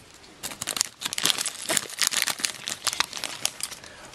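A plastic blind bag for a Kre-O G.I. Joe mystery figure is torn and crinkled open up close, with continuous loud crackling and ripping bursts throughout and no talking.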